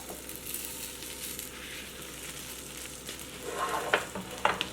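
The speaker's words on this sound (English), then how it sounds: "So this is a cauliflower gobi paratha. Just slide it over the skillet." A stuffed cauliflower gobi paratha cooks on a hot skillet with a soft, steady sizzle. Near the end, a few brief clinks and scrapes sound over the frying.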